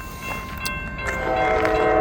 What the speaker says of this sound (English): We got a train down there and a train up there.